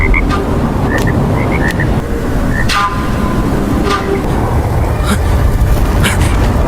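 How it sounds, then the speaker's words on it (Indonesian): A frog croaking effect from a Chinese animated fantasy series plays as a loud, dense, continuous rumble, with scattered higher chirps and croaks over the din. "dia pun mengeluarkan suara katak yang membuat telinga semua orang kesakitan"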